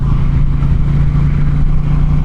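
Indian Challenger motorcycle engine pulling hard under acceleration on a ride, a loud steady low drone mixed with wind rush, continuous throughout.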